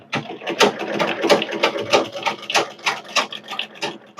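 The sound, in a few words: zig zag sewing machine stitching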